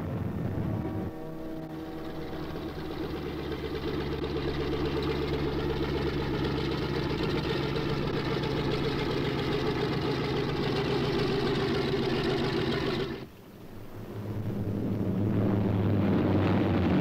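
B-26 bomber engines drone in a loud, steady, low throb that holds for a long stretch, dips suddenly near the end and then returns with a deeper rumble, with no talk over it.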